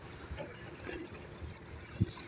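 Swollen, flooded Ganga river water churning and sloshing near a ghat, a soft continuous wash with light splashes and one brief low knock close by.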